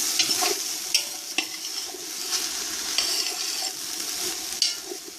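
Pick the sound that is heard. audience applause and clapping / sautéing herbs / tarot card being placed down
sautéing herbs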